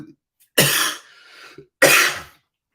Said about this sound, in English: why am I coughing this morning?